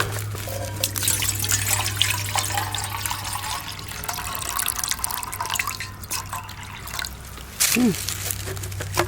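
Water trickles and drips steadily into a metal canteen cup over a low steady hum, with a brief louder splash near the end.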